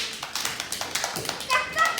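Clapping at a taekwondo belt grading, a scattered run of hand claps filling the room over about two seconds, with a voice speaking briefly near the end.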